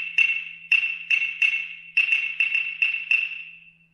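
Claves, the Cuban wooden percussion sticks, are struck together in a run of about nine sharp, bright clicks. The clicks come at an uneven, quick rhythm, close and clear, each ringing briefly.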